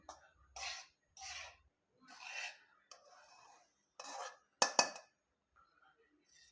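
A spoon scrapes roasted flour out of a pan in a series of short, separate rasping strokes with quiet gaps between them, ending in a sharper clink of metal against the pan.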